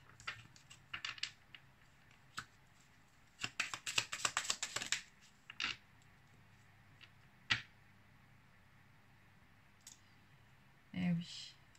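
Cards being drawn and handled during a tarot-style card reading, with clusters of crisp close clicks, shuffles and flicks in short bursts, someone speaking French over parts of it.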